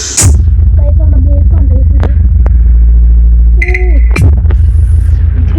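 A thunder sound effect booms from a low-budget home theatre system: a loud, deep, sustained rumble with crackling bursts, heard up close and filling the room.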